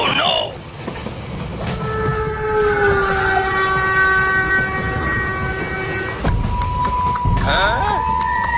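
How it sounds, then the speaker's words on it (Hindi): A cartoon train rolls through a forest, with a steady rumbling run and long sustained horn blasts over it; voices talk during the passage. "अब ट्रेन जंगल में से होकर गुजरेगी।"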